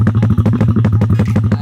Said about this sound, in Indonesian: Jadi ini suara idolnya.